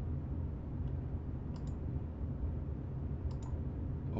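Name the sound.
computer mouse clicking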